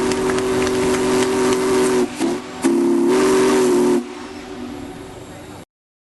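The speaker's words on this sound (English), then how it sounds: "The robust whistle of the train, known to many as Big Boy, is returning to the tracks" Big Boy steam locomotive sounding its robust steam whistle, a loud, sustained deep tone over hissing steam, briefly broken then resumed before fading into background hiss.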